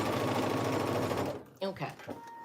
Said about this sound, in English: I'm going to stop there and back stitch.